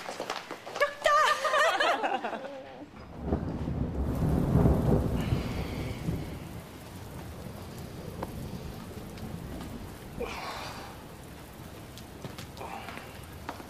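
Heavy rain patters steadily on surfaces while a deep roll of thunder rumbles loudly near the start and fades into the continuous downpour.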